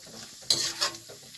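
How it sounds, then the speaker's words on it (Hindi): Dry fruits frying gently in ghee over low heat, with a soft sizzle and two quick scraping stirs of a spoon against the pan, close and brief. "इनको बहुत ही हल्की आंच पे इनको हम फ्राई कर लेते हैं"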